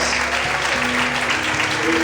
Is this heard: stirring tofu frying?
no